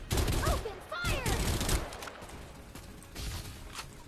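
Dense gunfire in a video game shooter: bursts of rapid shots and explosive crackle, loud and continuous across the moment, with voices faintly mixed in.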